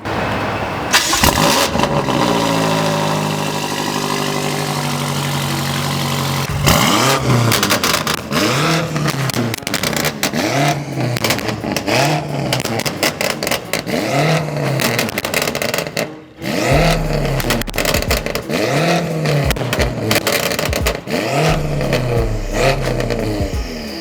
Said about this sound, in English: We're going to get a cold start of it as well and let it rev up.